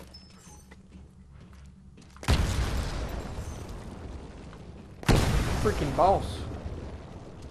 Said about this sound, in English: Throw a grenade into each of the windows.